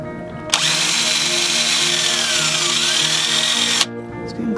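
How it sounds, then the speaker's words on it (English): A power drill boring a hole through a PVC cap whines steadily for about three seconds, loud and close, with a faint hum before and after. "put a hole in the PVC cap with your drill"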